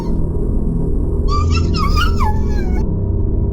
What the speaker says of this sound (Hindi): कुत्ते डर कर रोने लगे।